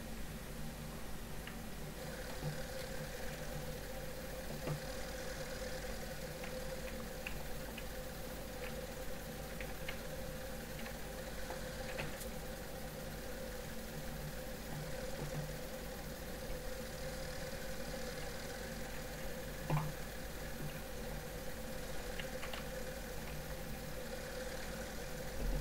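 A tractor engine idles in the video game Farming Simulator 2015, a faint, steady low mechanical hum with a slight knock that runs evenly and unbroken the whole time.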